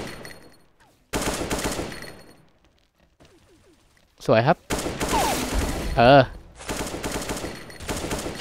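AK rifle fire in a shooter video game, with loud bursts of rapid automatic shots in short clusters between quieter gaps, while someone talks excitedly during play.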